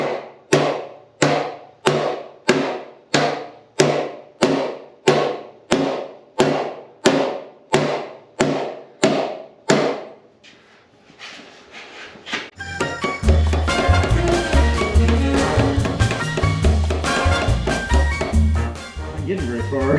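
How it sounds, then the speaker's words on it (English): A hammer strikes metal on a junkyard 454 engine during a Chevelle swap: about sixteen sharp, evenly spaced blows ring out alone, then stop, and loud music takes over. "we're gonna need a real hammer."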